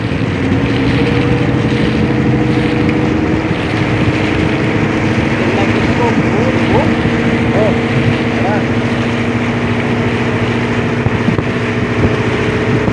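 A large boat's V10 engine runs steadily throughout, a loud constant drone with a low hum that does not let up.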